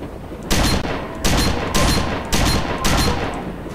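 Shotgun blasts in S.T.A.L.K.E.R. Shadow of Chernobyl, about five loud booming shots fired in a quick regular rhythm, each followed by a short decaying tail.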